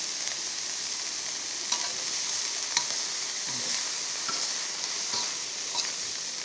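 Insects being stir-fried in a pan: a constant dry sizzle with regular scraping strokes of a spatula roughly every second, close and steady.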